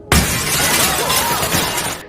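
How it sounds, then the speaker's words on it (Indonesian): Glass in a house window shatters after an object is thrown at it, one loud sudden crash followed by a rattling spray of breaking shards that fades after about two seconds. "Situasi pun semakin tegang saat kaca rumah pecah dilempari seseorang."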